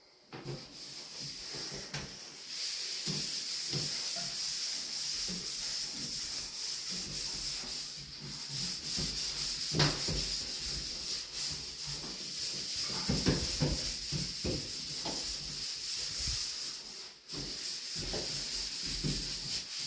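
A shower's walls being scrubbed with Bar Keepers Friend cleanser: continuous rough rubbing strokes, fairly close, swelling and easing in an even back-and-forth rhythm without pause.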